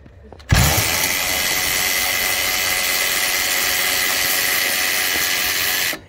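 A power tool spins out a clamp during a turbo replacement on a Ford 6.0 Powerstroke diesel, starting abruptly and running as one loud, steady high whine for about five seconds before cutting off.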